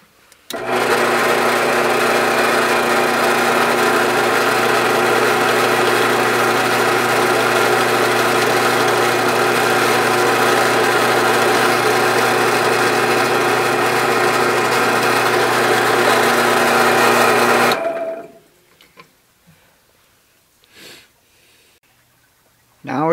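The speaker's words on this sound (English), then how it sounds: "Then I'll drill the 1/16 hole." A drill boring a 1/16-inch hole in wood gives a steady, loud motor whine that runs unbroken for about seventeen seconds, then cuts off, leaving near silence with a couple of faint knocks.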